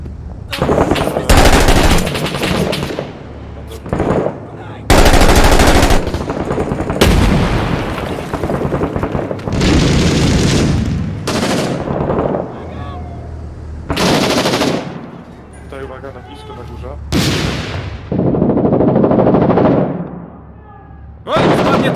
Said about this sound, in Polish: No tak strzelają chyba.